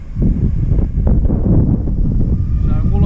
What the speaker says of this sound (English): The wind sort of started gusting a little bit, brought over a little bit of cloud